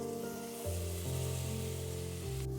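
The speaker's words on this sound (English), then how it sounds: "Sauté for 3 to 4 minutes." Red onions sautéing in chili oil with cumin seeds, a loud steady sizzle and crackle close up, with low tonal hum beneath and a brief stir near the end.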